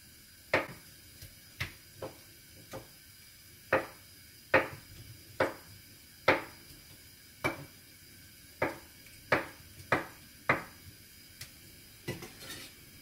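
A knife cuts a block of tofu into small cubes on a cutting board, making about fifteen faint, sharp taps close by at a loose, uneven pace.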